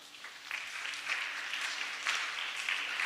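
An audience bursts into applause and cheering, a dense wash of clapping that swells and holds for about three seconds with bright surges throughout.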